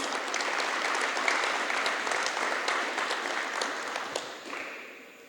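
An audience at an anniversary celebration applauds, a steady spread of clapping that holds for several seconds and then fades toward the end.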